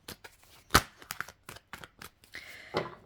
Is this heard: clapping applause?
no